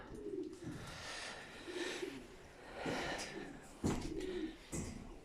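Soft, repeated pigeon cooing inside a 2.5 by 2.5 metre loft, several low rolling coos in a row, fairly quiet and close, with faint shuffling between calls.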